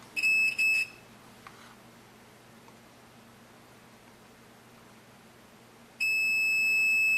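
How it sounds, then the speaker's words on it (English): Continuity meter beeping while a Panasonic plasma TV circuit board is tested after soldering, a brief pair of sharp electronic tones at the start, then a steady sustained beep near the end, with quiet background between. "with your continuity meter, give her one final test"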